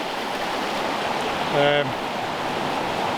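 River water at Nant Mill rushes steadily near the waterfalls, a broad constant wash throughout, with a brief tonal hum rising over it for a moment midway.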